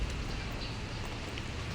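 Steady rain during a typhoon in Taiwan makes a dense, even hiss with no breaks. It is moderately loud and heard on its own.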